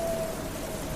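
Steady rain falls during a storm as a continuous, even hiss that fills the whole moment, with no voices.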